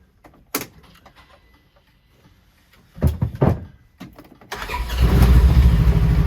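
The engine of a Polaris General UTV is started after a battery cutoff switch has been fitted. A few clicks and a brief crank come first, then the engine catches and settles into a loud, steady idle close by.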